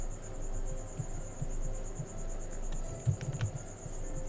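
Male crickets chirp in a dense, continuous high-pitched trill, steady and moderately loud, with a few faint clicks and low rumbles underneath.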